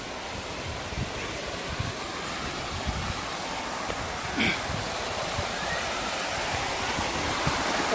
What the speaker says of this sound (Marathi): अतिशय छान असं धबधबा आहे.